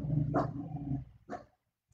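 Dogs growl and give two short barks close by, a low rumbling snarl followed by a sharper bark, then silence.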